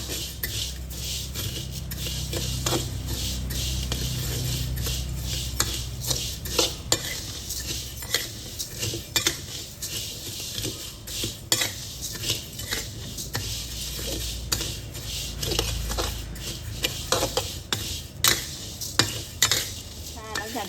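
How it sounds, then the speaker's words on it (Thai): Flattened rice (khao mao) dry-roasted over medium heat in a pan, stirred with a utensil that scrapes and clinks against the metal in a busy irregular rhythm, close-up over a faint low background hum, no talking. "ก่อนอื่นเราก็จะมาคั่วข้าวเม่าก่อนค่ะ ใช้ไฟกลางในการคั่วค่ะ"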